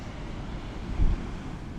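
North Sea waves surging onto the shore on a wild stretch of the North East England coast between Whitley Bay and Tynemouth, a steady broadband roar of surf and wind buffeting the microphone, swelling briefly louder near the middle.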